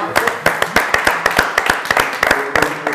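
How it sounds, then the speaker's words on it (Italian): A studio audience on an Italian sports talk show applauds, with loud, distinct, fairly rhythmic hand claps repeating steadily over a few seconds, close and dry. "Facciamo un applauso"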